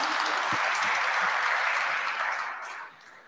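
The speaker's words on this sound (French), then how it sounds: "Je vous invite à les applaudir." Sustained applause from an audience at an awards event, a thick wash of clapping that holds steady before tapering off near the end.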